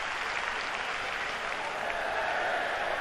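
Football crowd at a 1992/93 Nottingham Forest versus Arsenal match applauding a player as he comes on, a steady wash of clapping from the stands, fairly distant and even throughout.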